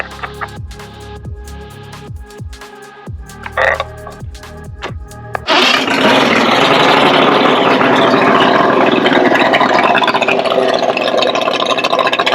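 A Mercury two-stroke V6 outboard running on premix fuel, sputtering and popping in uneven bursts before catching and roaring into a loud, steady run that holds for the rest of the clip.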